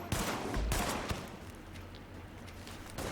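Gunfire in The Division erupts in bursts of sharp, close shots with a dense fusillade over a lingering rumble, shots recurring in quick clusters throughout.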